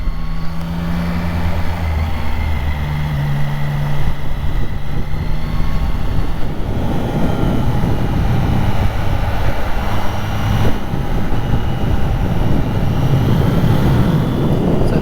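A Triumph Trident 660 motorcycle rides around a bend on the road, a loud, steady engine drone mixed with heavy wind rush against the rider's microphone, pitch shifting slightly through the corner.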